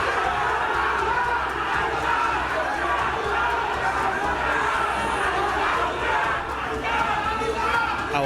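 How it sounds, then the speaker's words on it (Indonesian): A large crowd of rival election campaign supporters chants and shouts at a street gathering, a dense, loud, continuous roar of many voices with pushing and jostling mixed in, never letting up. "Awalnya mereka hanya saling adu yel-yel, namun suasana semakin memanas."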